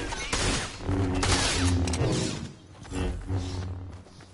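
Rapid bursts of video game gunfire crackle and boom in dense volleys, loud and close, with a short lull before another burst and a trailing fade at the end.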